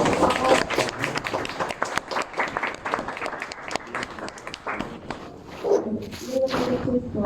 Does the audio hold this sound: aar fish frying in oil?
no